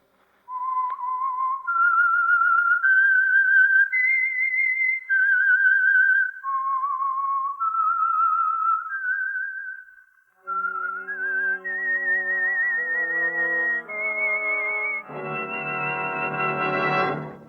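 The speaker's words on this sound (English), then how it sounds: "That whistle is your signal for the Signal Oil Program" A clear, solo whistled melody rises and falls through a slow, eerie tune, then shifts into a richer sustained section that builds at the end, the opening signal of 1948 radio drama The Whistler.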